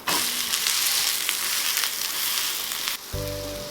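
A thick onion uttapam sizzles loudly in the pan right after being flipped, a steady close crackle of frying that ends with a short metallic clatter.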